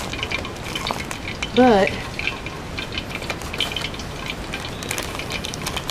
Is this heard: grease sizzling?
yes